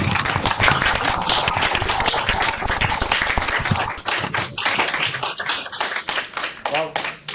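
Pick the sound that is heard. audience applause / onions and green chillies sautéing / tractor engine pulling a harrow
audience applause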